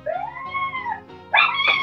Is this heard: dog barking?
yes